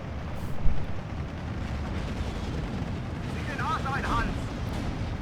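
Mortars fire during a Steel Division 2 battle, heard as low booming thumps and rumble over a dense wartime background, with a brief whistling sound near the end.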